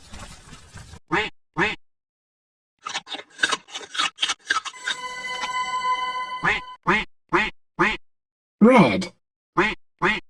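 Cartoon duck quacks come in a series of short, loud calls, alongside a voice naming animals and a brief musical tone in the middle.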